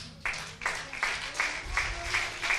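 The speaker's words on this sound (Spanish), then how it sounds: "denle un aplauso" A church congregation at a worship service clapping together in a steady rhythm, each burst of claps landing about every half second, moderately loud and without speech.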